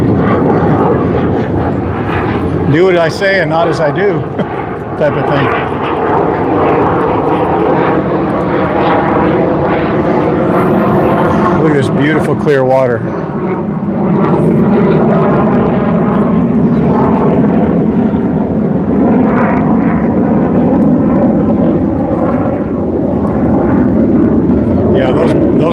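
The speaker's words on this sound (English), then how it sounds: "those are the FAFO versions of the fighter jets" Fighter jets passing overhead near Waikiki Beach in Hawaii, a loud sustained roar that swells and sweeps in pitch as each aircraft goes by, under close conversation from people talking throughout.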